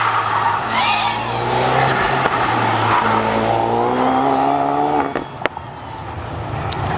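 A race car runs a lap on an old, reopened racetrack, its engine droning steadily with rising and falling pitch as tires squeal and skid through corners, then a few sharp clicks near the end.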